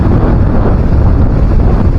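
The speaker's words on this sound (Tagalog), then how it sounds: "so kasi ganyan talaga pagka malakas ang hangin." Strong wind at the seaside buffeting the microphone, producing a loud, continuous low rumble with no breaks.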